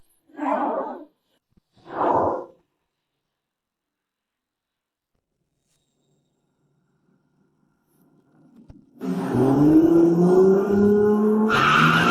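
Car braking hard with its tires skidding, a sudden loud screech with a rising squeal lasting about three seconds after two short bursts and a long silence.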